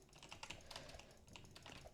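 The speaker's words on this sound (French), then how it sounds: "désolé si on entend le bruit de mon clavier et de ma souris" Quiet computer keyboard typing during a Murder Mystery 2 game session, a quick irregular patter of keystrokes and clicks, fairly faint and close, with no talking.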